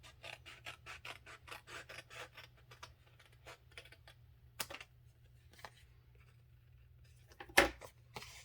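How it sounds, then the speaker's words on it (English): Paper being trimmed for a handmade papercraft card, heard as a quick run of soft rasping cuts and scrapes close by, then quieter handling with a few sharper isolated snips near the end. "so I'm just going to trim."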